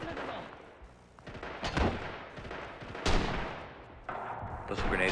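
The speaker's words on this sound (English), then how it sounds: "Those are grenades over that wall" Grenades burst behind a wall in a shooter game as two or three muffled, rumbling blasts, with gunfire crackling in between at moderate loudness.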